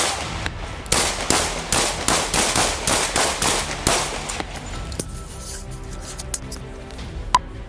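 A .223 rifle fired repeatedly during a police standoff: about ten sharp, loud shots in a fast, fairly even rhythm, then a few scattered fainter cracks and clicks as the firing stops.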